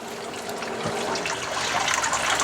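Water runs and trickles steadily over a bed of grain during the rinse stage of a first home brew on a Spike Solo system, a continuous close wash of liquid with no talking.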